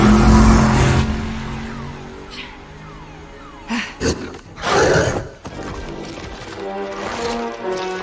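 A car in the film Jurassic World: Rebirth revs loudly and pulls away, its engine fading over several seconds, with mixed soundtrack effects and some bursts of noise partway through.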